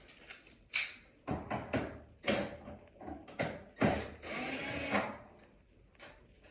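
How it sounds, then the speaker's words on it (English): Duct tape is peeled off the casing of a Sole elliptical trainer, giving several short, quiet ripping bursts up close with brief pauses between pulls. "removing the duct tape"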